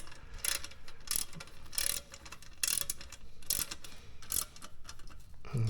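A hand ratchet clicks in repeated bursts as bolts are tightened during home gym assembly, each stroke giving a crisp, close, rhythmic series of clicks with brief pauses between them and no voices.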